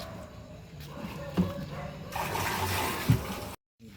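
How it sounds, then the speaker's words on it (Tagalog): A river flows with a broad, steady rushing wash under people talking, then the sound cuts off abruptly near the end. "Oo, ilog yan. Sa ilog yan."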